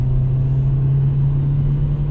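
A 2025 Nissan Versa taking curves, heard from inside as a steady, loud engine and road drone with a low tonal hum holding even throughout.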